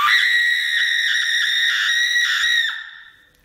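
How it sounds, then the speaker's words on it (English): A person screams at full pitch during a fast party-style challenge game, one sustained, loud, high cry held for about two and a half seconds before trailing off into silence. "Scream like your life's about to end."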